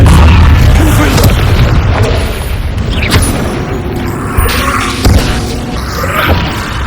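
A Confringo blasting curse explosion in the Hogwarts Legacy video game: a loud, heavy boom opens the clip, followed by further thuds and crashing impacts in a chaotic fight, with a few sharp hits later on.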